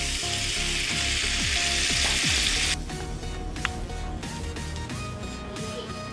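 Bars of butter heat in a thick-bottomed pan to make ghee, crackling and sizzling loudly at first, then dropping to a quieter, busier spatter of small pops with faint clinks.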